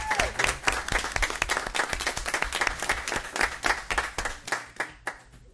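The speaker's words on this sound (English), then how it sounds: "Let's give him a big round of applause" A crowd at a town senior advisory committee meeting applauds steadily with dense, sustained clapping that stays loud throughout and tapers slightly at the end.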